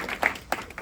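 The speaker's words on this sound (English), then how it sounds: "clap it up for Aubrey." An audience at a DCPS math competition claps for a student: a few brief, sparse claps land in quick, uneven bursts, fairly faint and short.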